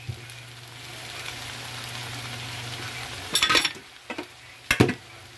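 Petchay, okra and sweet potato leaves are sautéed in a pan, a soft continuous sizzle under a low hum, broken by several loud bursts of stirring and scraping.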